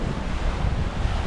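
Wind by Taal Lake buffets the microphone in a dense, steady roar with broad rushing gusts, loud and close, and no voices are heard.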